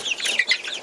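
Chickens in a homemade heated brooder cluck and cheep in a dense, continuous chorus, close and loud, with no talking over them.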